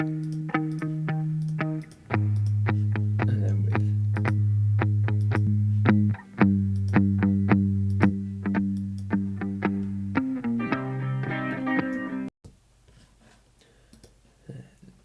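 A dry, distorted electric guitar riff plays sustained, chugging chords with a few sharp accented hits, then falls away into quiet near the end.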